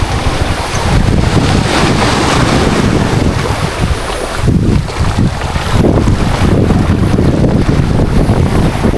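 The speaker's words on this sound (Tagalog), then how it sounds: "Lakas lang guys ng alon." Strong sea waves crash and surge against an island shore, loud and continuous, with heavy wind buffeting the microphone throughout.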